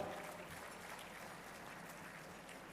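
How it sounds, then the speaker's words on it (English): Quiet, distant applause from a conference audience at an opening ceremony, a soft steady patter with no voices over it. "Je vais vous demander de l'applaudir encore plus fort"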